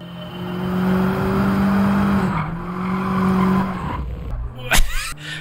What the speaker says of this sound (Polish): mam fantastyczny samochód do driftu Sirocco R